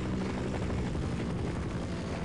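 Helicopter in the Half-Life game, a steady loud rotor drone with continuous chopping throb and no voices.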